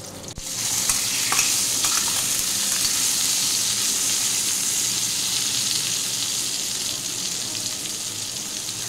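Food fries in hot oil while making dudh potol, a Bengali vegetable dish, giving a continuous bright sizzle and crackle that eases slightly over several seconds, with no talking.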